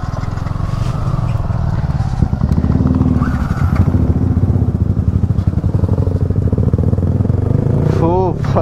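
Group of motorcycles with modified exhausts and changed silencers rumbling loudly and continuously on a ride in Jharkhand, engine drone steady throughout with a rising whine near the end, voices faintly mixed under the noise.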